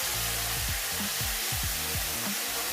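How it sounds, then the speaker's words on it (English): Green curry paste pan frying over medium to medium-low heat, a soft steady sizzle with a low hum underneath and no voices. "Just let it pan fry a little bit until it's fragrant but not burned"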